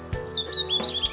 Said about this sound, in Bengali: পুরুষ দোয়েল পাখি অনেক সুন্দর করে গান করে থাকে।